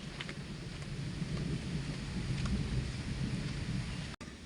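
Steady rain hisses outdoors with low rumbling thunder rolling underneath, a dense, continuous wash of sound at moderate level with no voices.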